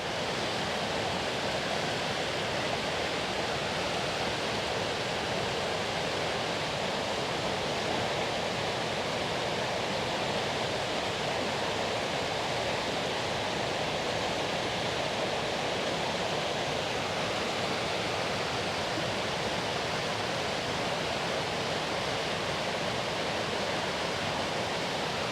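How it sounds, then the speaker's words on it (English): Loud, steady roar of a waterfall beside a forest trail at Cat Hollow in Dayville, Connecticut, a dense unbroken rush of falling water filling the whole stretch with no voices. "it's really loud over here. You can start to see the waterfall through the trees."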